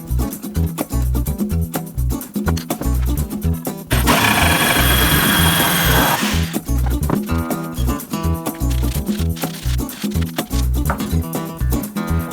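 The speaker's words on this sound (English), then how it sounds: "I think I'll cut another block to the same size as this" A power saw cuts through a wooden block for a PC desk, loud and close, with a continuous burst of rough cutting noise between stretches of rhythmic, machine-like thumping.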